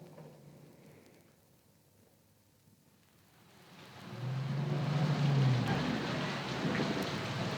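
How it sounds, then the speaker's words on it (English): Rain builds from a quiet patter into a heavy, dense downpour, with a low rumble swelling beneath the steady hiss. "I never heard such damned rain"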